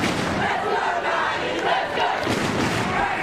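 A home crowd in a tennis stadium at the Australian Open roars and cheers on a local player, a loud, continuous surge of voices with swelling bursts.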